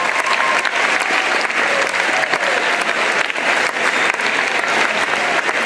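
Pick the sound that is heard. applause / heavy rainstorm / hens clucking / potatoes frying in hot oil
applause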